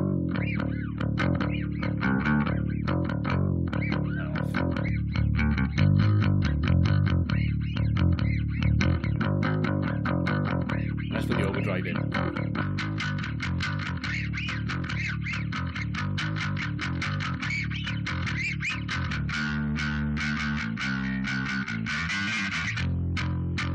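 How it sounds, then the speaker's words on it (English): A bass guitar played through a Tube Screamer overdrive pedal gives a gritty, distorted line of plucked notes, steady and fairly loud, with no voices. "we'll just use the tube screamer on its own a second"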